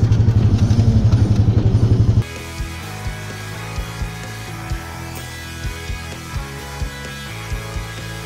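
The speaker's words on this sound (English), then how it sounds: "I think Mighty Mouse is talking to me, and I think he's saying it's time for some new brake pads." Worn brake pads on a Honda Pioneer 500 side-by-side give a loud, rhythmic pulsing squeal for about two seconds, then fade to faint, evenly spaced ticks and squeaks as the wheel slows.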